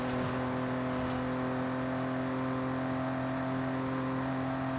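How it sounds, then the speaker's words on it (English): A family sedan cruises in the Forza racing game, its engine giving a constant, steady drone with a stable tonal hum. The level stays unchanged throughout, with no talk over it. "Going for a nice cruise in our family sedan here."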